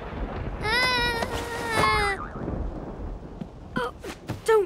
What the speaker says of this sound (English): It's only a storm.